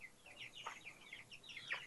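Soft, quiet clucks and chirpy calls from chickens, several short vocalizations in a row, fairly faint with light background noise.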